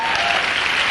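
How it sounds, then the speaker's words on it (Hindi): An audience applauds at a business motivational event, a dense, loud, continuous wash of clapping that fills the whole short moment. "इस बिजनेस के लिए और कंपनी के लिए मैं ताली बजवाना चाहता हूं, सलूट मारना चाहता हूं"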